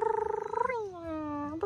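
A cat gives a drawn-out, wavering meow that bends downward in pitch, preceded by a rapid pulsing purr-like trill; the sound is close but fairly quiet.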